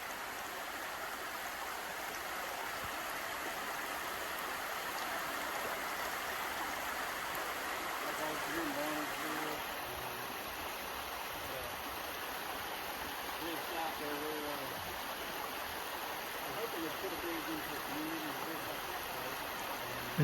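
Water in a creek that people ford near a river crossing, rushing in a steady broadband wash that stays constant and fairly faint. Indistinct voices come and go beneath it.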